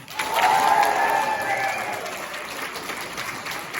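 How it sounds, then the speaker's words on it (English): A theatre audience claps and cheers together to vote on casting for a production of The Importance of Being Earnest. The steady applause swells early with a few whoops, then tapers slightly while staying dense. "d like Charmaine to play the role of Cecily, please clap and cheer now."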